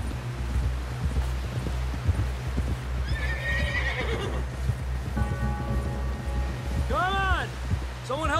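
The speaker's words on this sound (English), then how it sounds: "help John down off this horse" A horse whinnies twice over steady clip-clopping hooves in the video game Red Dead Redemption 2, with a low rumbling background and voices talking underneath.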